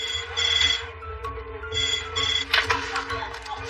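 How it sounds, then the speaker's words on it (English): An emergency red telephone in a hospital casualty department rings in repeated bursts of electronic trilling, fairly loud against a humming room background. "the emergency red phone keeps on ringing"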